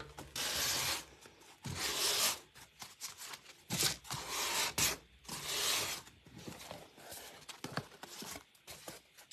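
Rough back-and-forth scratching as 320 grit sandpaper rubs over a wooden sled, close and fairly loud strokes in an irregular rhythm with brief pauses.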